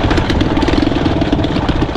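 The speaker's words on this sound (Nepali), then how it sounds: "बाइक टिकेपै छैन भत्र भत्र भत्र भत्र गरिन्छ" A carburettor motorcycle engine sputters unevenly in the cold on a rough mountain road near Dhorpatan, Nepal, with rapid choppy pulses close by and no talk.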